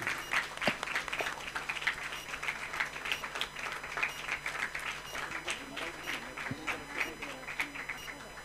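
Schoolchildren keep clapping at a Model UN grand finale, a sustained crowd of uneven, crisp hand claps going on steadily throughout at moderate loudness.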